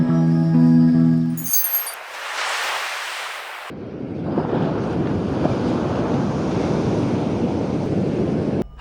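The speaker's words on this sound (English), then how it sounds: "The waves breaking the seashore." Steady broadband rush of surf washing ashore on a winter beach, loud and close, with gusty wind buffeting the microphone and a brief tonal burst near the start; no voices.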